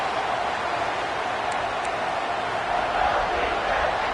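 Steady roar of a large stadium crowd in a college football video game, Tennessee at Alabama, on 3rd down, a dense wash of distant cheering that swells slightly toward the end.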